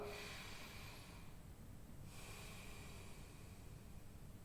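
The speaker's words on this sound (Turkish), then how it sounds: "önce normal derin bir nefes alın burnunuzdan" A deep breath drawn in through the nose during an appetite-curbing breathing exercise: a steady, airy hiss that runs the whole few seconds, dipping slightly partway through, with no talking.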